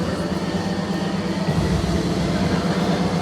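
A steady loud rumble of a theme park train in motion at Universal Studios Florida, with constant low droning and rattling noise throughout and no clear voices.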